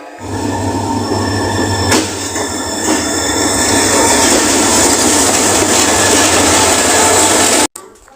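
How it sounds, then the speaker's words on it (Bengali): An Eid special passenger train runs near Kishoreganj with a loud, continuous rumble of wheels on rails. Metallic squeals and faint clicks run through it before the sound cuts off abruptly at the end. "এটা ঈদ স্পেশাল ট্রেন"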